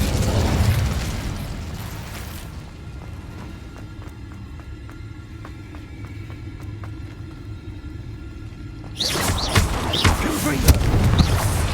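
The Incendio fire spell in the Hogwarts Legacy video game sets off a loud roaring rumble with bursting pops, drops to a hissing, crackling lull in the middle, then flares loud again.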